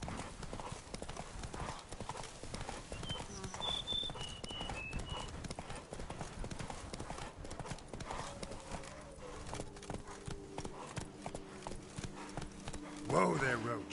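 Horse hooves clip-clop steadily in The Witcher 3, the rhythmic footfalls continuing across the scene amid ambient game sounds, ending with a louder burst near the close.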